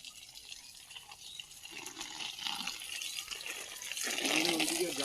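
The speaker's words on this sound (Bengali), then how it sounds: "দেখো মুনমুন ওই লঙ্কা গাছটা আমি কিভাবে জল দিচ্ছি দেখো" Water rushes and splashes steadily from a short garden hose onto a chilli plant in a home vegetable garden, a continuous hiss with some spattering that grows louder toward the end.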